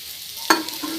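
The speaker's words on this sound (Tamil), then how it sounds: "வாழைக்காய் வறுவல் அப்பப்போ நம்ம இப்படி பெரட்டி எடுத்துக்கலாம்" Raw banana slices fry in a pan, with a brief sharp scrape of stirring over a steady soft sizzle of oil.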